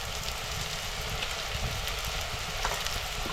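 Chopped onion, tomato and turmeric sautéing in a pan in a home kitchen, a continuous close sizzle and crackle with a low steady rumble underneath and no voices.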